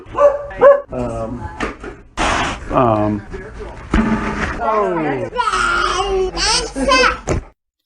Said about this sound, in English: the incessant dog barking at the beginning